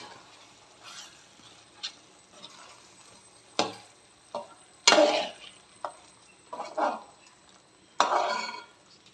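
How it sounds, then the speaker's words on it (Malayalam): Chicken masala cooks in a pan while chopped leaves are stirred in. Intermittent scraping and clattering stirs punctuate a soft, continuous sizzle. "ഇതിലേക്ക് നമ്മൾ അരിഞ്ഞ് വെച്ചിരിക്കുന്ന ഇല നമുക്ക് ഇതിലിട്ട് കൊടുക്കാം ചിക്കൻ വേറായിട്ടുണ്ട് നമുക്ക് അതിലെല്ലാം കൂടെ ഇട്ട് കൊടുക്കാം ഒന്ന് ഇളക്കി കൊടുക്കാം"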